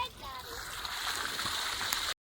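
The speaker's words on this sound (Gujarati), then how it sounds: "આ બધી પાણી છે ને અત્યારે મોટર ચાલુ કરી છે ને" Water gushing steadily from an electric pump motor on a farm, a continuous close splashing flow with a faint voice over it, cutting off abruptly at the end.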